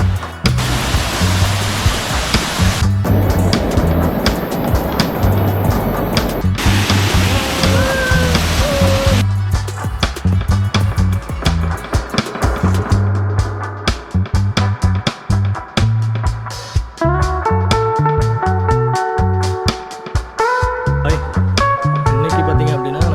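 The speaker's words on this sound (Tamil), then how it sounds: "இதுதான் அருவி" Karumparai hill waterfall in Kanniyakumari, heard as a loud, continuous roar of rushing water that fills the scene. A voice can be heard now and then, partly buried under the noise.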